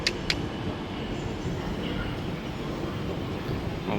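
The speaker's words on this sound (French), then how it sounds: "Là, je vais prendre le métro, le KLCC." Metro train on the KLCC line in Kuala Lumpur, a steady low rumble of the moving carriage with a couple of brief sharp clicks at the start, fairly loud and without talk.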